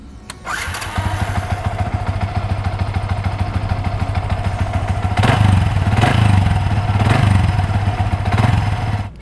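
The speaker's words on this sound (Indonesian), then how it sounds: "yang menarik dari mesin ini adalah suaranya halus banget, dengan catatan kalau kalian masih pakai knalpot standar" A second-generation Yamaha V-Ixion motorcycle with its stock exhaust starts up nearby and settles into a smooth, even idle, with a few gentle throttle blips midway.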